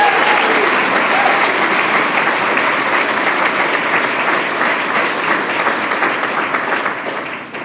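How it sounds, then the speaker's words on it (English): A large lecture-hall audience gives sustained applause, a dense steady wash of many hands clapping that stays loud throughout and fades slightly at the end. "Round of applause, please, for Dr. Loury."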